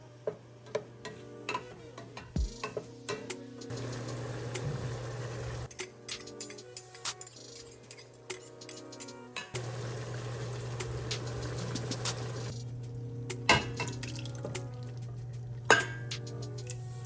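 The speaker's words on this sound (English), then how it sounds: "I am now adding the other ingredients, including some minced garlic, fresh parsley, stewed or diced tomatoes" Garlic, parsley and tomatoes being added to a simmering pot of vegan New Orleans-style gumbo, with soft bubbling, scattered clicks and light taps of a utensil against the pot over a steady low hum.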